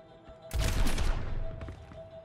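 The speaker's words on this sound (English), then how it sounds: "you'll need to blow a helix rocket to make it up top" Soldier 76 fires a helix rocket in Overwatch on the Numbani map, a sudden loud blast that bursts in and rumbles down over about a second, followed by a smaller second burst.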